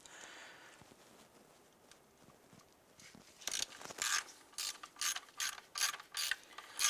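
Ratchet loosening a 10mm upper intake manifold bolt on a 2011-2019 Ford Fiesta, giving a series of loud, close clicking bursts in the second half after a quiet stretch of faint handling noise.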